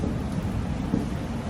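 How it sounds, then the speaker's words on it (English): Rain and thunder outside form a steady, dense wash of noise with a low rumbling undertone that stays constant, with no voices over it. "How loud is the rain?"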